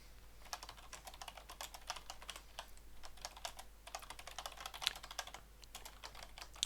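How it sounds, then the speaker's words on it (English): Typing on a new computer keyboard during a Minecraft gaming session, a quick irregular stream of soft clicking keystrokes, close and quiet, alone without speech. "If you can hear my keyboard,"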